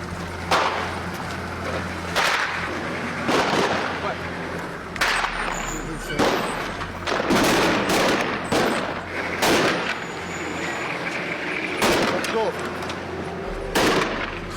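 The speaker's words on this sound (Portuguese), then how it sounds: "a tropa curda é recebida a tiros." Gunfire erupts in repeated sharp bursts as Kurdish troops enter a Syrian village during combat, with loud cracks and volleys scattered across the scene and voices in the background.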